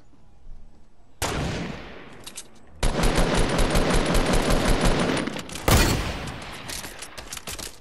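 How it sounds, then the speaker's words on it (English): Gunfire in Fortnite, with loud rapid bursts of automatic shots following a short single burst, then a sustained stretch of heavy firing and a sharp louder blast near the end, with no voices. "they're already shooting me"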